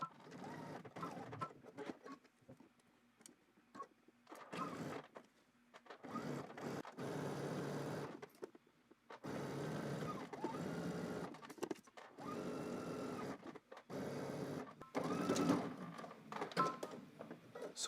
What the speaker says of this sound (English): let's head to the machine and stitch this